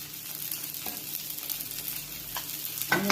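Oil sizzling around a dal-rice dosa on a hot pan, a soft steady crackle with faint scraping, then a louder sharper sizzle burst near the end as more oil hits the pan.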